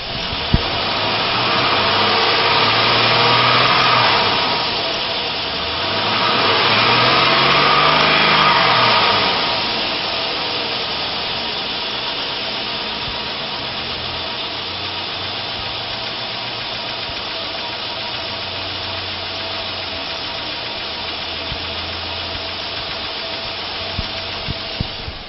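A 1999 Chevrolet Silverado 1500 pickup with a 5.3 liter V8 and automatic transmission running at a steady idle, a continuous broadband engine drone with two brief swells early on, heard close with no talk.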